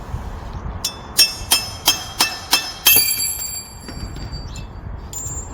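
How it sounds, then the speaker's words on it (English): A centre bit knocked and pulled out of a hole saw on a drill while installing a double flood barrier, six sharp metallic clinks in a steady rhythm followed by a brief ringing scrape, close and fairly loud. "I'm just going to remove the centre bit out of this"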